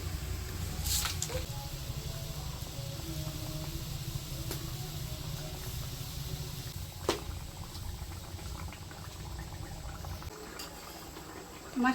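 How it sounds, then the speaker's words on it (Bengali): Tapsi fish simmering in a mustard-paste gravy, giving a steady low bubbling with a few faint clinks of utensils and no voices. "এখন আমি আস্তে ধীরে মাছগুলি দিয়ে দেব।"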